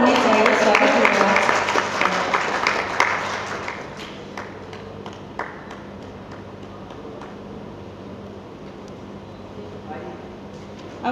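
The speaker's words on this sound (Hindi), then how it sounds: "तालियों की गड़गड़ाहट होनी चाहिए" At a book launch ceremony, a crowd's applause for a guest is loud at first over a speaking voice, then thins into scattered claps and fades under continued talk.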